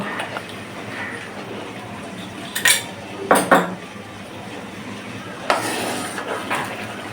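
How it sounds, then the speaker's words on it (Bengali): Salt stirred into near-boiling water in a metal wok, heard as a low background hiss broken by a few sharp metallic clanks and scrapes of a utensil against the pan. "লবণটা পানির সঙ্গে মিশে যাক তাই নেড়ে দিচ্ছি"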